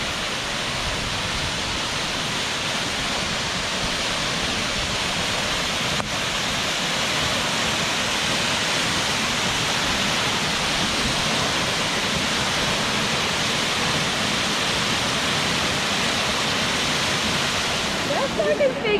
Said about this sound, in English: This is one of our very favorite waterfalls.